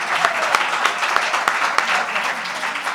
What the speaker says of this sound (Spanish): Os pido un aplauso, por favor